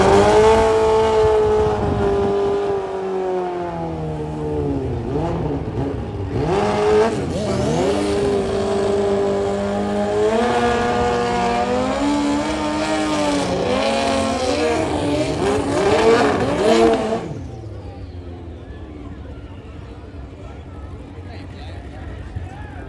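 Drag racing cars at Carolina Dragway roar loudly at close range with rising and falling engine howls, then cut off and leave a quieter background rumble; voices are faintly present.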